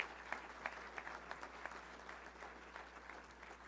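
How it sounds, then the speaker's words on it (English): Luncheon crowd at a Little Rock Touchdown Club meeting claps for the event's sponsors, a fairly faint, steady patter of many hands with a few sharper individual claps standing out, no talking. "So let's give a round of applause to all of our great sponsors today."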